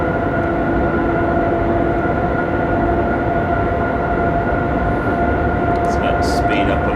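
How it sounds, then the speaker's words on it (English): Train driving through hilly country in Train Sim 2014 on the Three Country Corner route, a steady close rumble of running gear with a constant engine drone throughout and no pauses. "it's really nice driving a train through this kind of environment"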